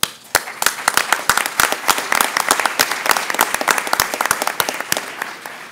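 An audience at a Latino education summit applauds, many hands clapping in a dense, steady burst that holds, moderately loud and close, without speech.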